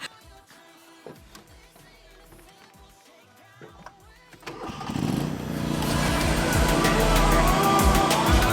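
After a few seconds of quiet clatter and handling noises, a chainsaw's small two-stroke engine bursts to life and runs loudly and steadily nearby.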